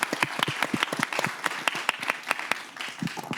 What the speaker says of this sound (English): Let's give that some applause too.